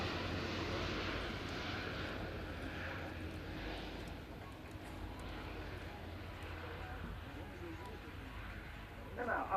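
An Alenia C-27J Spartan military transport of the Italian Air Force sweeps past in a flying display at an airshow, its turboprop drone a broad, steady roar that stays moderately distant and gradually fades.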